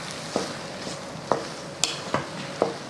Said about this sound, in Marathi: आता हे चांगलं मिसळून घ्यायचं